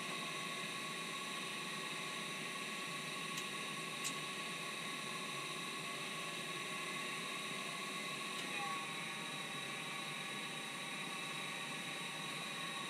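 A Trane furnace motor runs with a steady, loud hum and whine that stays constant and alone throughout, with a couple of faint clicks partway through.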